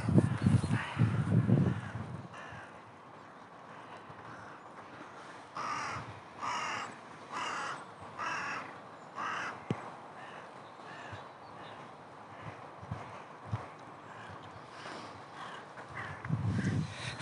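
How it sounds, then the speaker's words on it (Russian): Crows cawing repeatedly in a city park in Saint Petersburg in March, harsh calls coming from several directions at moderate distance, with louder low rumbles at the start and end and no speech. "Со всех сторон слышится кар-кар."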